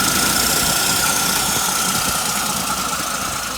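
The engine of a 1986 Toyota FJ60 Land Cruiser runs loudly and close up just after starting, a rough, steady idle with a knocking rumble.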